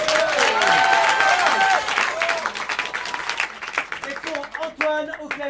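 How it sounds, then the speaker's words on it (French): Audience applause and some cheering at an improv theatre show in Paris, a burst of clapping rising over music and voices on stage before thinning out. "Des applaudissements pour Alice."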